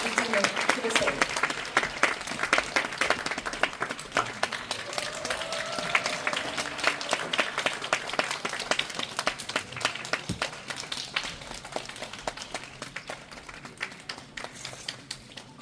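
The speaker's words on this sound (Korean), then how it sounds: "박수 부탁드립니다." Steady applause and clapping from a theatre audience greeting a film director and actors walking onto the stage, dense and continuous throughout with a crowd murmur underneath, slowly easing toward the end.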